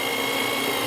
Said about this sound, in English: Now this is a 6mm drill that I'm using.